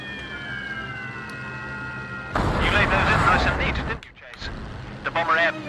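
Bombs dropped on a target in Secret Weapons Over Normandy, a sudden loud rumbling blast that rolls on for under two seconds, following aircraft engine drone, with voices talking around it.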